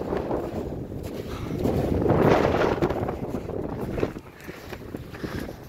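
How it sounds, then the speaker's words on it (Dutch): Strong, cold winter wind at a campsite roars and buffets the microphone with loud, continuous rumbling gusts that swell midway, then ease slightly. "Het waait hier ontzettend hard."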